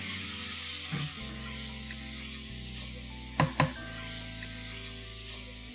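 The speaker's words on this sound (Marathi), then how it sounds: "हे आपल्याला आता 5 मिनिटं तरी फ्राय करून घेतलं पाहिजे" Koli-style mutton masala fries in a pan with a continuous soft sizzle and hiss, broken by a couple of sharp knocks of a spoon against the pan midway, with no speech.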